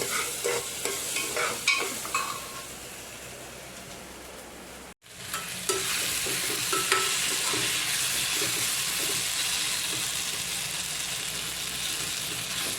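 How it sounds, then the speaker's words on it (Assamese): Lentils frying in a hot pan, a steady, close sizzle with scraping stirs that drops out for a moment and then comes back fuller and louder, with no voices. "ডাঙৰকৈ ভাল লাগে কাৰণে দালিখিনি ভাজি লৈছোঁ"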